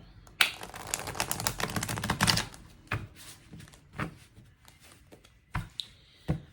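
A deck of tarot cards is shuffled close by, with a dense riffle of clicking and flapping card edges followed by a few sparse taps and slaps as the cards are squared and handled.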